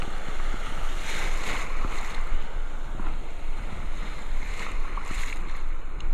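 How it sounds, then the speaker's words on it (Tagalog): Big ocean waves slap and wash around a small fishing boat out at sea, irregular splashes and surges over a constant rushing, windy background, with no talk. "Malalaki lang yung alon dito banda."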